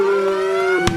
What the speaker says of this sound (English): Listen to those sirens go off